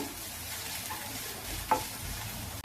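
Grated coconut dry-roasting in a pan for a Kerala-style pumpkin eriseery, a close, dry rustling scrape as it is stirred, steady and fairly quiet, with one brief sharp tick near the end.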